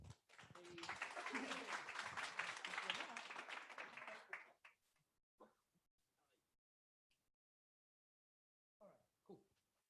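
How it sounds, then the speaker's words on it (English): A short burst of audience applause at an evening Docker meetup in London swells quickly and fades after about four seconds, leaving near silence with a few faint sounds and a voice starting to speak. "give a round of applause to Prasenjit"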